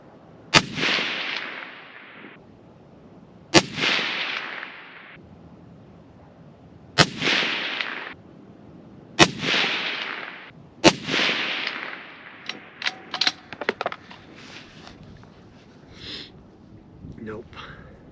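Five loud Ruger and Savage 110 precision rifle shots fired from a bipod, each a sharp crack followed by a short rolling echo, spaced a couple of seconds apart, with clanking and handling noises afterward.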